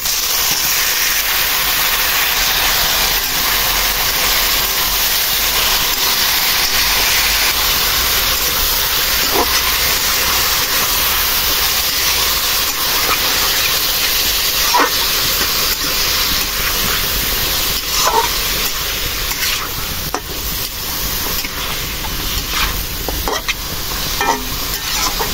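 Meat frying in a pan with onions, giving a loud continuous sizzle and hiss with occasional spatters and stirring scrapes, heard alone and up close.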